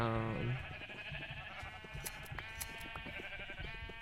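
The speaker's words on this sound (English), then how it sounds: "another sheep that I'm gonna shear" Sheep in Minecraft bleating as it is sheared, a short wavering bleat at the start, then game background sounds and soft clicks.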